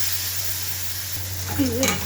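Onions and tomatoes fry in a pan with a steady low sizzle, joined near the end by brief scraping from a spoon stirring, close and moderately quiet.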